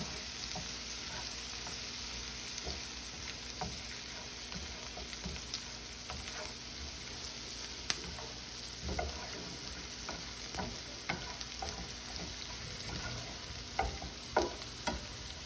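Onions and garlic frying in bacon fat for a green bean casserole, a quiet steady sizzle with scattered crackles and spatula scrapes as they are stirred.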